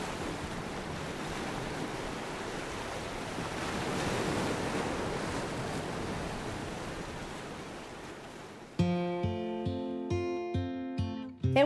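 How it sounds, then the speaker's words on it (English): Waves crash steadily against rocks on a quiet Nova Scotia village shore, a broad continuous surf wash that swells and fades, ending with a few sharp tonal notes. "hear dead silence, except the waves regularly crashing against the rocks"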